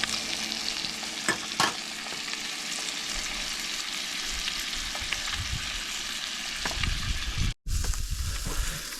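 Wild-caught trout frying golden in a pan, a dense continuous sizzle with crackling spatters and occasional scraping, close and fairly loud, briefly cutting out near the end before resuming.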